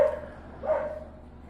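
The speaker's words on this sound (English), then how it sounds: "the dog's got to make so much noise you can't hear anything" A dog barks close by outdoors on a farm in the rain, two short loud barks at the start and again partway through over a steady low rumble.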